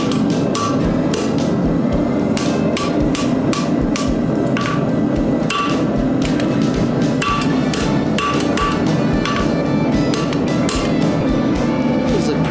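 A hammer strikes a forged steel fork edge on an anvil, sharp ringing blows in a fairly steady rhythm, close and loud, with some irregular pauses between strikes.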